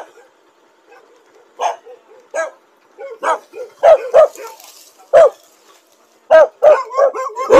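A dog barks in a series of sharp, close yaps and yips, sparse at first and then coming in quicker bursts, with a little whimpering between barks in an otherwise quiet street setting.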